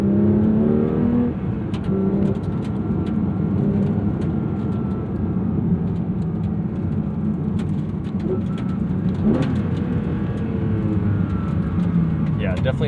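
A 2026 Porsche 911 GT3 992.2 on a race track, engine droning loud and steady with shifting pitch as it accelerates, heard from inside the car; someone speaks over it.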